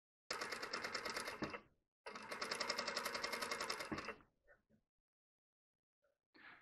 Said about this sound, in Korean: 미싱을 할 건데 미싱 굉장히 쉬워요